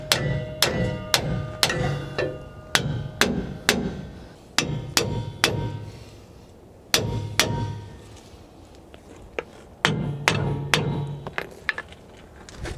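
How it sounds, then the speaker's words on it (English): A hammer strikes the leaf springs of a 2000 Toyota Tundra over and over to knock the leaves back into place, with sharp metallic clanks in irregular bursts, some quick in succession and some spaced apart, up close. "To get these leaves back in place, I'm just gonna hit it with a hammer"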